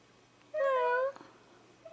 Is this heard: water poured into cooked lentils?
no